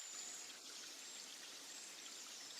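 Quiet outdoor water ambience, a soft continuous trickling and streaming hiss like a distant stream or light rain, faint and steady for the whole stretch with no voices.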